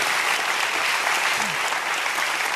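A large audience applauds steadily and loudly throughout, a dense wash of clapping with faint crowd murmur underneath and no pauses.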